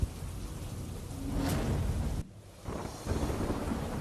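Heavy rain driven by strong wind pours down in Mehsana, Gujarat, a steady broadband roar with gusty buffeting on the microphone. It briefly drops away for a moment before surging back just as strong.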